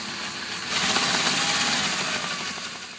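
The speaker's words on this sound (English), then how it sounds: "let the drill bit do the work" A power drill bit carves a wooden knife handle with a whirring, rising, gritty grind that swells midway and then eases off, close by and without talk.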